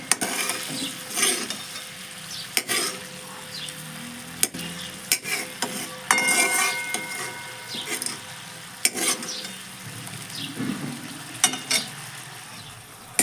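Masala simmering in oil over a low gas flame for batata bhungla gravy, with a steady soft sizzle and intermittent stirring scrapes and clinks of a utensil against the pan, close and moderately loud, no talking.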